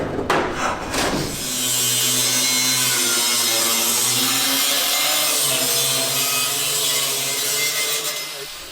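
A power tool cuts metal off a car seat mount with sparks flying: after a few sharp knocks, a loud continuous grinding whine holds steady for several seconds, then trails off, close up.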